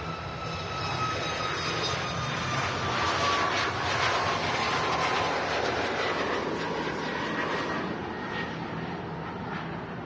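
Airliners taxi at Manchester Airport, a steady loud jet engine whine and rumble holding throughout at moderate distance, with no talk.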